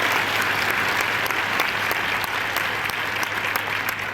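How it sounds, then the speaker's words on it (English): An audience at an event breaks into a steady round of applause, dense and continuous clapping filling the room at even loudness for the whole stretch. "Give them a round of applause."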